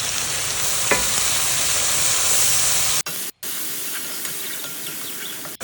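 Onions, garlic and spices frying in a pan, a loud close steady sizzle and hiss with a stirring scrape, briefly cut off before resuming.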